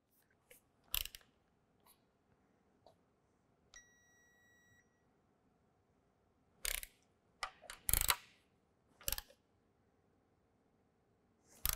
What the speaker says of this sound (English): Now I'll torque them down to 18 foot-pounds.